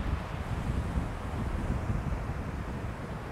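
Steady wind on an east coast shoreline, blowing hard against the microphone with a dense low rumble and surf-like wash, constant and loud throughout with no voices.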